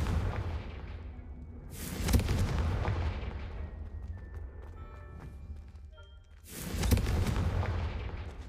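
Confringo fire spell explosions in the video game Hogwarts Legacy: two loud booming blasts a few seconds apart, each with a rumbling tail, over continuous game ambience.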